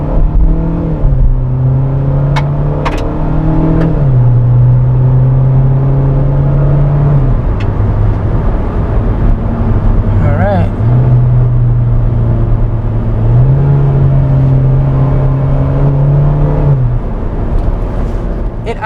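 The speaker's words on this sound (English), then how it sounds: "when we were accelerating, you got quite a bit of engine noise coming in" A Hyundai Venue engine revs under acceleration in sport mode, a steady droning hum heard from inside the cabin that climbs and drops in pitch through several gear changes, with a brief navigation chime partway through.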